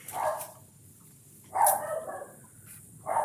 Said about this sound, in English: There's my little barky boy upstairs if you hear him.